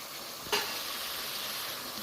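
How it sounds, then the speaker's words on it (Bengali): Ground spice masala of turmeric, chili, cumin, coriander and Kashmiri red chili powder frying in hot oil, a steady broad sizzle that flares briefly as it hits the pan, then keeps hissing evenly. "এবার মশলাটা ভালো করে কষিয়ে নেব"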